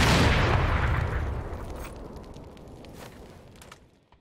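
A heavy gunshot in a video game, with a big boom at the start and a long rumbling decay that trails off over several seconds, heard alone without talk.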